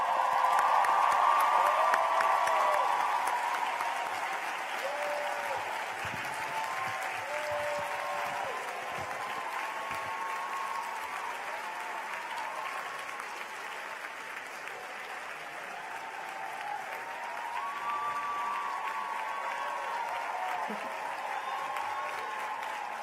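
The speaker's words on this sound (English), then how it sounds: "give a huge round of applause to all those who have supported you in your journey here" Long, sustained applause from a large graduation ceremony crowd, a continuous wash of clapping with faint voices and occasional cheers rising and easing over its length.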